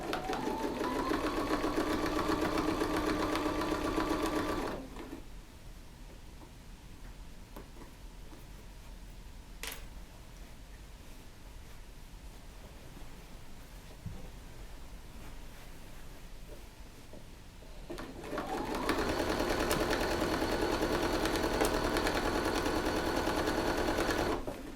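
A sewing machine stitches in the ditch along quilt sashing in two loud, steady runs, one at the start and one at the end, separated by a long quiet stretch.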